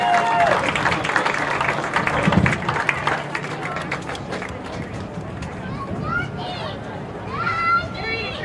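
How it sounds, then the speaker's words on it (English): A stadium crowd at a college football game claps and cheers for Hall of Fame inductees, a steady wash of applause and chatter with a voice carrying over it. "Ladies and gentlemen, a big round of applause for your 2022 Aggie Hall of Fame"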